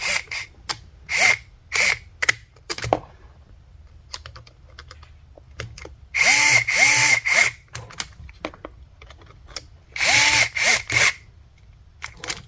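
A power drill drives screws on an RC truck steering servo, several short whirring bursts in uneven rhythm with clicks and handling noise between them, close and fairly loud.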